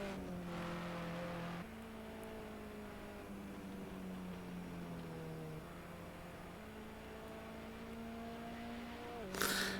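BMW 320 race cars in a racing video game, a steady engine drone holding a single pitch with stepped shifts up and down, ending in a sharp burst of noise near the end.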